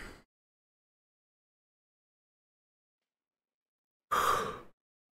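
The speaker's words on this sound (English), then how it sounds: "I am yawning more" A single person yawns once near the end, a short, breathy exhalation after a long stretch of silence, with a faint trailing breath at the very start.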